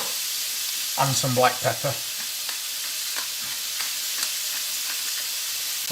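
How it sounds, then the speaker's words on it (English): Mince sizzling in a pan, a continuous bright frying hiss with scattered scraping taps as it is stirred and broken up, while a person speaks briefly near the start. "as we cook it, we'll just keep breaking it up as well"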